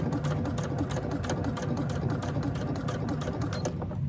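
Sewing machine stitching a handbag, a steady close mechanical whir with rapid needle clatter running without pause, no talking over it.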